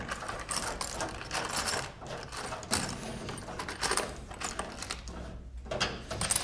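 A handheld riv nut tool sets a threaded rivet nut into the sheet-metal surface of a 1973-87 GM truck, giving a run of close, rapid mechanical clicks and ratcheting squeezes with brief pauses, no talking.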